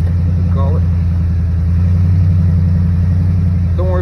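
A big, loud pickup truck climbs a wooded hill, its engine droning deep and heavy and close throughout. A couple of short voice fragments rise briefly over the steady rumble.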